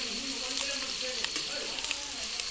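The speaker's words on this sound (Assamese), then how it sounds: "অকণমান পিঁয়াজটো পকিবলৈ দিছোঁ" Onions sizzle in a pan for an Assamese mutton curry, a close, steady frying hiss with light crackles throughout.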